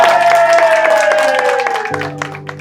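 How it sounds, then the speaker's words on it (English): Audience applause at a school awards celebration honoring an assistant principal of the year, a crowd of clapping hands under sustained musical tones, fading to sparser claps at the end. "Let's give a big clap for"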